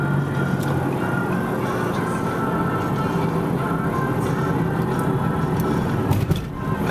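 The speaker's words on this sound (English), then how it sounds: "Hopefully that whirring noise that just got worse you can hear." Steady droning whir of a worn wheel bearing heard from inside a moving vehicle during a turn, a continuous hum blended with road and cabin noise.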